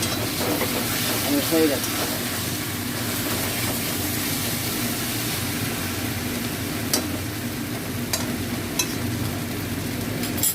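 A vegetable curry simmers and hisses in a pan as it is stirred, a steady wash of steam and low bubbling with a few light scrapes, while a voice speaks briefly.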